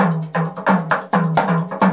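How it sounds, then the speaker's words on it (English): Frame drums in a percussion overdub session play a steady pattern of rhythmic hits with resonant low tones, close and loud throughout the short passage. "And then frame drums."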